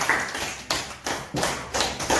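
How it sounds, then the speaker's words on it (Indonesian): Classroom applause for the circle group of pupils after their magnet presentation: several bursts of hand clapping, close and fairly loud, with brief pauses between them. "Oke, tepuk tangan dulu kelompok bulat"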